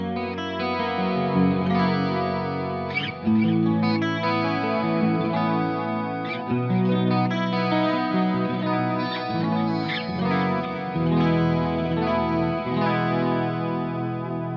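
Electric guitar played through the clean channel of a solid-state metal amp, sustained chords and ringing notes with chorus-like shimmer and a touch of echo, steady and moderately loud without pause.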